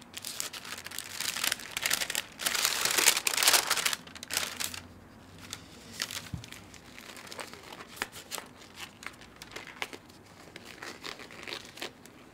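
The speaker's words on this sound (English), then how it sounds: "the first thing I'm going to do is put my sterile gloves on" A sterile gloves packet is unwrapped by hand in a clinical setting, giving close, dry paper crinkling and rustling, with a louder burst of tearing and crumpling early on that then settles into softer intermittent rustles.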